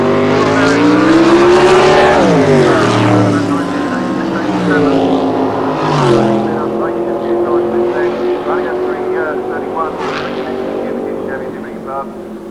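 A 1990 Santa Pod drag racing dragster, the ex-Dave Wilkinson rail fitted with new Rare and Morrison heads, roars loudly down the strip with rising and falling engine pitch as a commentator talks over it.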